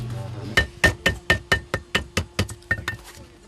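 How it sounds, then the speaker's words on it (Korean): A craftsman hammers layered leather pieces together while making handmade shoes. About a dozen sharp, fairly heavy knocks land close by in a steady, even rhythm. "조각을 붙인 후에 망치질이 계속되는데 강도가 꽤 세다"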